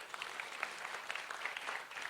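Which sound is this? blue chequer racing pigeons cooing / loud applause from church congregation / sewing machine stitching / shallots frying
loud applause from church congregation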